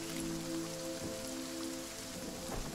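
Steady rain patters down in the horror video game Visage, a soft even hiss beneath low, sustained musical tones, with no voices.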